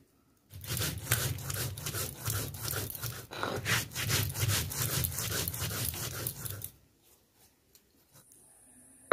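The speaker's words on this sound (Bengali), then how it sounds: "এই ফেঁকে আমি ভিজে রাখা চালগুলো বেটে নেব" Soaked rice being ground into paste: a steady, close, rhythmic gritty scraping for about six seconds that then stops, leaving quiet room sound.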